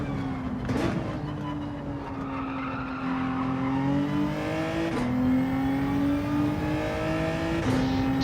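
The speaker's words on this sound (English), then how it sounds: "He's still fast, that Ferrari." A Ferrari race car in Gran Turismo 7 runs fast, its engine holding a loud steady whine that climbs through the gears with quick shift drops, close and continuous.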